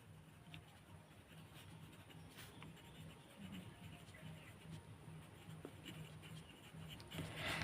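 Pen scratching steadily across paper while a box is drawn and labels written by hand, close and continuous, with soft strokes and occasional sharper scrapes under a low background hum.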